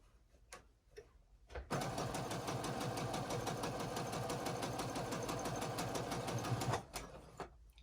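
A sewing machine runs steadily for about five seconds, stitching fabric for a beginner face mask and scrub cap, with fast even needle ticking and motor hum, close and loud, after some quiet handling noises.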